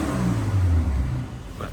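A Mercedes-Benz GLC 43 AMG 3.0 twin-turbo V6 engine, not yet warmed up, revs smoothly, its pitch climbing and then easing back, close by and fairly loud over a brief stretch.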